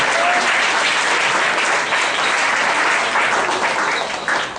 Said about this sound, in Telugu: చప్పట్లు కొట్టి దేవుడికి